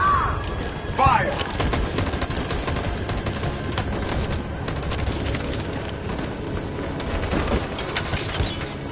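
Soldiers fire in the Detroit: Become Human video game, a loud, sustained volley of rapid overlapping gunshots that runs for several seconds without a break, with a brief cooing bird call near the start.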